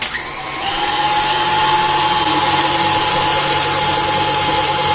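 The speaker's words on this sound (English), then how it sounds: "KitchenAid stand mixer, do your thing." A KitchenAid stand mixer runs at medium speed kneading wet cinnamon roll dough, giving a steady, loud motor whir with a constant tone after a brief start, continuous and with no talking.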